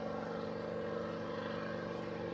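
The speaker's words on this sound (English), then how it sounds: "That helicopter is really low." A low-flying helicopter passes overhead, its steady, loud rotor and engine drone filling the whole stretch without a break and with no talking over it.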